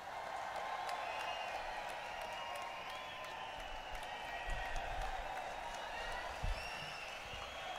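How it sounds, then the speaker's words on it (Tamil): A crowd at a BJP political rally in Salem applauds continuously, a broad, steady patter of clapping heard from a distance with scattered louder thumps. "கரகோஷம் இன்னும் சத்தமாக வேண்டும்."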